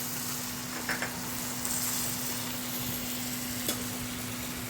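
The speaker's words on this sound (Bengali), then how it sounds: "দিয়ে একটু নেড়ে আমার গ্রেভিটা বানানো প্রায় হয়ে যাচ্ছে" Milk gravy with soy sauce for chicken balls being stirred in a pan, a steady soft bubbling sizzle with a few light scrapes and taps of the spoon.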